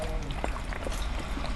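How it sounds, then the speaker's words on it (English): Dirty water runs from a household tap in a steady, close splashing trickle with small bubbling spurts, continuous throughout and with no voices. "water comes out dirty again."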